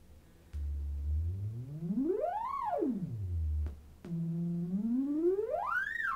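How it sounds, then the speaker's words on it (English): A smooth sine-wave tone from a Prism laser guitar glides from a low hum up to a high peak and back down, then starts again and rises once more. "Compare that to the sound of the original sine wave."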